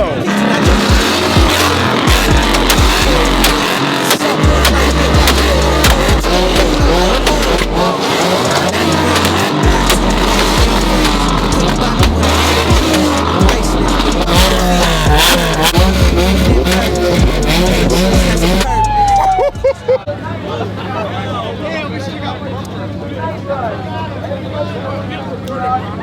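Loud, close engine roar from cars at an underground car meet, several powerful engines revving hard and accelerating up a ramp in quick succession with tire noise echoing off concrete, then the sound drops to a lower rumbling idle near the end.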